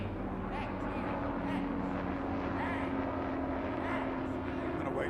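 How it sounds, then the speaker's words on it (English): A helicopter passes overhead at a cattle dog trial arena, its steady broadband rotor and engine drone filling the whole stretch without letup, fairly loud and constant throughout. "I'm going to wait until that helicopter goes over the top of us"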